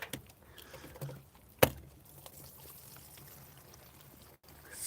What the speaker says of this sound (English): pour some gasoline.